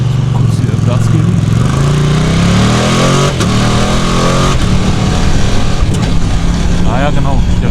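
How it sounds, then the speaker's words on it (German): A Ducati motorcycle engine in the Bavarian Alps revs and accelerates loudly and continuously, its pitch climbing through several gear pulls with a brief dip around the middle, the roar close and steady throughout. "Kurz hier Gas geben."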